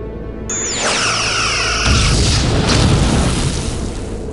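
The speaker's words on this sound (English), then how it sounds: "Is it stable enough to fire a phaser at it?" A Star Trek phaser fires at a rock slide blocking a shaft, a descending sci-fi zap sweeping down into a deep rumbling boom and crumbling rock, loud and close.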